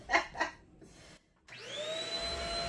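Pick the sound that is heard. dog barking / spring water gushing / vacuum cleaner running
vacuum cleaner running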